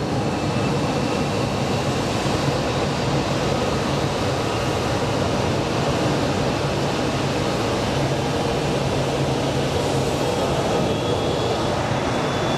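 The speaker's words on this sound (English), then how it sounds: "Listen to the jet power on." A jet airliner's engines spool up at Phoenix Sky Harbor International Airport, a steady, loud broadband roar with a faint whine that holds without a break.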